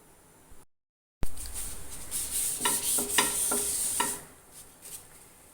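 Mini pita breads, kuboos, cook in a pan with a soft, steady sizzle after a brief gap of silence, broken by a few light scraping and tapping sounds before fading.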